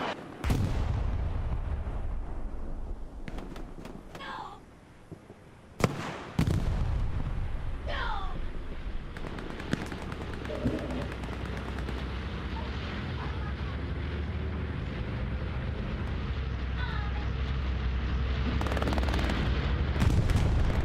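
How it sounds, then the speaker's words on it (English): Bombing run in a WWII online multiplayer game, heavy booming explosions and artillery-like blasts rolling over a sustained low rumble, with a sharp loud burst midway and continuous battle noise throughout. "Bombing run for the Allied forces coming in, though, unfortunately angled the wrong way"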